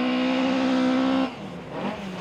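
A V8-powered car sliding through a forest stage at the Quit Forest Rally 2012, engine roaring loudly at steady high revs before easing off into a rougher, fainter note.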